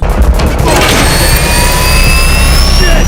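A loud jet engine roars steadily in a movie scene from Game Night (2018), with a sharp crashing burst at the start, then a sustained high whine and rushing thunder filling the whole clip.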